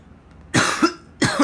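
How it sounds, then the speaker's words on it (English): A man coughs twice, close to the microphone, with two harsh, rasping bursts about half a second apart during a trading card game deck talk. "Sorry for the cough."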